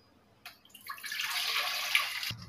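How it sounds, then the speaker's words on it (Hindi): A glass of water poured into a momo steamer cooker, a near, steady splashing stream lasting about two seconds before stopping abruptly with a light clunk. "इसमें 1 गिलास पानी डाल"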